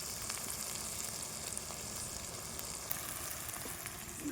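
Chicken curry spice mix frying in oil in a pan, giving a steady, dense sizzle that holds evenly throughout, close by and moderately loud, with no talking.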